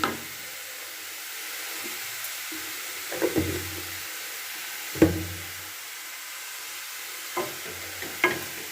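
Raw papaya chutney stirred with its tempering in a pan: soft scraping and knocking spoon strokes at irregular intervals over a quiet, steady sizzle, close and fairly faint.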